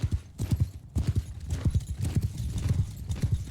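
Horses galloping in the Mount and Blade Bannerlord video game during a battle, a close, loud rush of rhythmic hoofbeats with clip-clop strikes running throughout.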